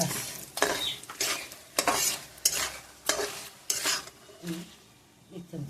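A spoon stirs puffed rice chivda seasoned with turmeric and chili powder in a pan, giving a series of loud, close scraping, rustling sweeps at a roughly even pace, with faint sizzling and no talk.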